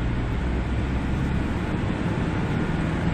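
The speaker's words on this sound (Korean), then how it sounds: "엔진 진동소음도 좋아지고요." A 2019 Kia Bongo 3 truck engine while driving on a test road, a steady low drone of engine and road noise heard from inside the cab, continuous and moderately loud without breaks.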